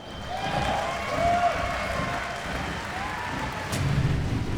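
A crowd in an esports arena at The International Dota 2 tournament cheers during a losers bracket final, producing a steady, fairly distant roar of voices and noise that swells slightly and then holds.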